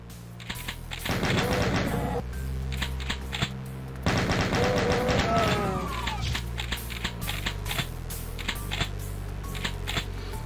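Chaingunners in Doom 2 fire in rapid clattering bursts, with one loud volley of quick shots followed by a pause and then a second burst, set over steady game background sound.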